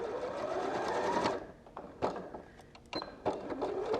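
Sewing machine stitching a Christmas tree quilt block: a close, whirring motor run that stops after about a second, followed by several short clicks and brief mechanical bursts as the fabric is handled.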